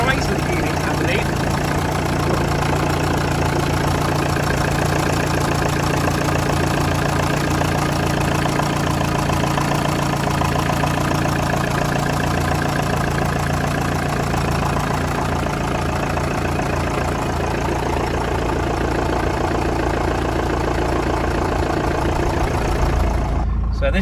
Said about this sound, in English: So the TX4 doesn't have the transit engine. It's actually got a Chrysler unit, I believe.